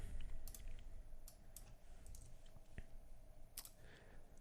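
Keyboard keys tapped in short, scattered clicks while CAN message byte values are entered for a Blink Marine keypad, close and fairly quiet over a steady background hum, no one speaking.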